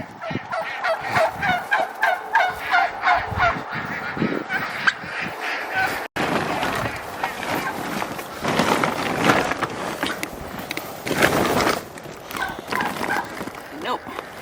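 Chickens cluck and cackle close by in a rhythmic series of calls while people search for eggs, with voices talking over the birds and rustling and handling noise in the later part.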